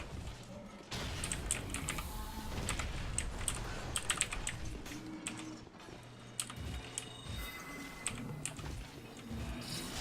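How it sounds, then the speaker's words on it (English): Rapid, continuous clacking from a worn-out clicky mechanical computer keyboard, typed on steadily and close up over a dense background wash of noise. "this clicky keyboard we got is on its last leg"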